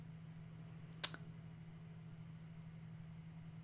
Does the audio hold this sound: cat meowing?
no